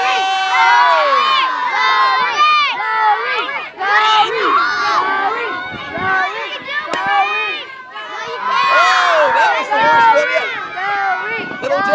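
A group of children shouts and cheers loudly and excitedly for a golf swing at a YMCA day camp, overlapping voices rising and falling throughout.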